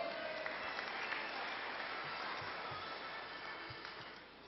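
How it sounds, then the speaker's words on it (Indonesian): Thunderous applause from a crowd at the inauguration of a halal center, dense sustained clapping at moderate distance that slowly fades toward the end, with no voices. "Tepuk tangan gemuruh."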